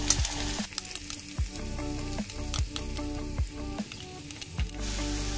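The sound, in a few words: vegetables frying in hot oil with fennel and green chili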